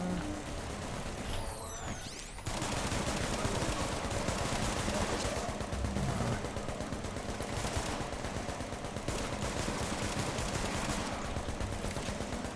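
Sustained distant gunfire from warring factions in The Division, a dense continuous clatter of automatic shots after a brief quieter opening, with no voices.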